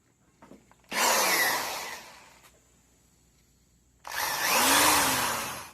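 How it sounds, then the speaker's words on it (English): A power drill whirs through two separate screw holes, each burst rising sharply, running about a second, then winding down, with quiet pauses between. "So I just need to drill 2 holes here for my screws."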